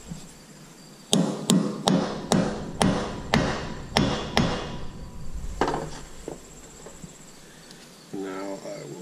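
Several sharp, close hammer taps drive a metal key into a combine's sprocket hub, about eight evenly spaced ringing knocks, then a few scattered softer clanks and handling noises follow.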